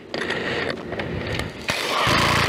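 A power driver whirs as it runs a screw into a polystyrene insulation panel, a steady close motor drone with a brief catch partway and a louder burst near the end.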